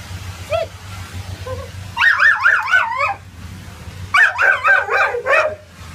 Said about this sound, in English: Her expressions when they hear the other dog barking.